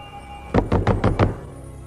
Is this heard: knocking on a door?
yes